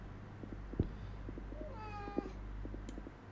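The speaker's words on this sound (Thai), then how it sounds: "แมวร้องนะครับผม" A cat meows in a Roblox game, a short, faint, rising cry heard over steady background hum with scattered clicks and taps.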